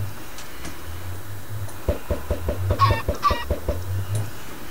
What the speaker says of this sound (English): Now I got chickens.